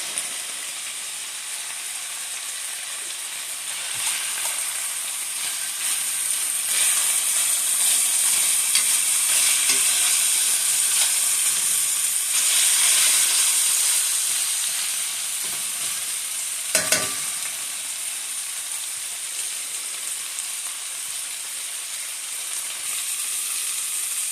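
Spare rib tips sizzle and fry steadily in a pan, a continuous close hiss swelling and easing, with a brief clatter near the end as the pieces are flipped; no one speaks.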